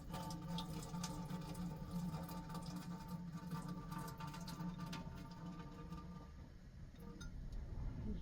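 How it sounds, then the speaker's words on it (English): Water poured out from a pot into a sink or drain at a van campsite, a steady continuous splashing stream with faint clinks, close and fairly loud, running for several seconds without talk. "so I make sure when I was pouring out the water that this stuff didn't go down the drain"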